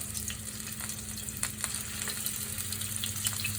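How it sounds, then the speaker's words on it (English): Italian meatballs frying in hot oil, a steady close sizzle with scattered pops and crackles running the whole time, no voices. "I'm going to check to see if this oil is hot enough to put them in"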